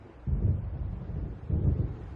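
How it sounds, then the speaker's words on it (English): Low rolling thunder rumbles twice from an approaching storm in Alan Wake Remastered, heavy and distant, swelling and fading over a dim background with no voices. "It seems there's a storm coming."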